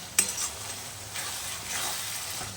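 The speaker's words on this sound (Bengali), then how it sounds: "এরপর ভালোভাবে মিক্সিং করে ভালো করে আমি এটাকে কষবো" Chicken with ground spices and chopped tomato sizzles steadily in a hot pan while a utensil stirs and scrapes through it, starting with a sharp clink against the metal.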